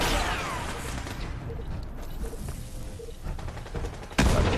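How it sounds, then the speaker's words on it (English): Pistol firing explosive rounds in Fallout 76: a dense rattle of rapid gunfire and blasts fills the scene, settling into mechanical clanks before a sharp, loud boom at the end; no one speaks. "I feel like this pistol explosive round is a bit too powerful."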